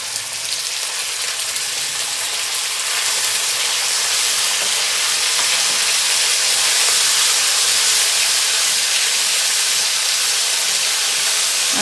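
Strips of chicken dropped onto browned garlic in a hot pan, making a loud steady sizzle that swells a little after the first few seconds and then holds as a broad continuous hiss with no talking.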